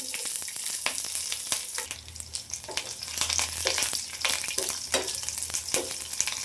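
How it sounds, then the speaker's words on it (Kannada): Green chillies sizzle and crackle steadily in a hot pan of oil with cumin, mustard seeds and coriander leaves for a Karnataka-style egg curry, with dense popping and occasional stirring scrapes heard close up. "ನೋಡಿ ಹಸಿಮೆಣಸಿನ್ಕಾಯಿ ಹಾಕಿದ್ದೀನಲ್ಲ, ಚೆನ್ನಾಗಿ ಫ್ರೈ ಮಾಡ್ಕೋಬೇಕು"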